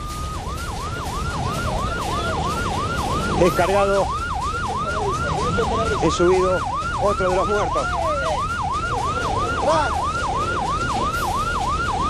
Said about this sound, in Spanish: Esta es otra de las ambulancias.